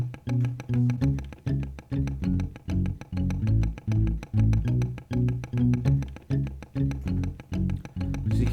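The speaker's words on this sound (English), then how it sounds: "The next loop that I do is the one with the octave pedal switched on" A looped acoustic guitar riff from a song repeats with an octave pedal switched on, adding a deep bottom end under steady rhythmic strums, alone and moderately loud.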